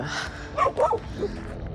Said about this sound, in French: les chiens qui sont toujours là, qui protègent même le camping-car